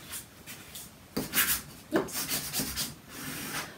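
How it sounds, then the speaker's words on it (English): A vinyl stencil of Oracal 631 is burnished onto a glass canister, giving a few firm rubbing and scraping strokes up close, each a short dry swish. "I want to burnish this real well so that I don't have any problems pulling my stencil"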